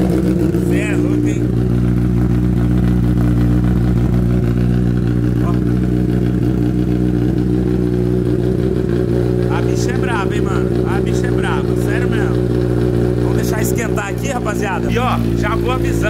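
A motorcycle engine, just started and warming up, idles steadily with a low, even throb, while people talk now and then over it.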